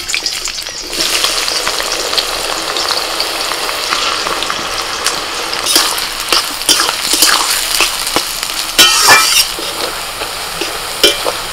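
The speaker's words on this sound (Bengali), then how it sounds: "তো পেঁয়াজটা ভেজে নেব" About 400 grams of onions fry in white oil in a wok for a quick chicken biryani, a loud, close, continuous sizzle broken by scattered clinks and scrapes of stirring.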